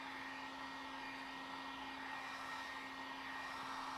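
Heat gun blowing hot air onto window tint film as it is shrunk to the glass: a steady, even whooshing hiss with a faint constant whine, running unbroken and close for the whole stretch, no voices.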